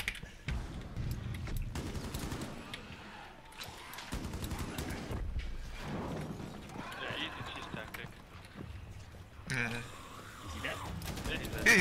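Rapid shotgun blasts from a 100-round belt-fed slug pump-action shotgun in Rainbow Six Siege ring out in bursts amid dense game noise, with voices talking throughout.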